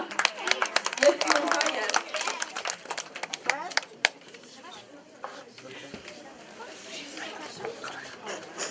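Prize winners at a library exhibition ceremony get a burst of applause, with lively clapping at first that thins into scattered claps, footsteps and murmured chatter.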